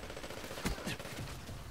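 Gunfire from the PPC weapon in Call of Duty: Black Ops III, a few sharp bursts in a short exchange at moderate volume over steady game noise, with hip-fired shots mixed among background effects.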